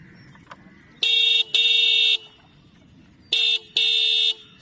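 A Minda D70 Pulsar-type horn fitted to a Honda Shine BS6 motorcycle sounds four loud, close blasts in two pairs, each a bright, buzzy tone lasting under a second, over a quiet idling background.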